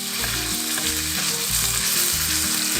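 Ground venison browning in a hot pan, with steady loud close sizzling and frying plus faint repeated stirring scrapes, no talk.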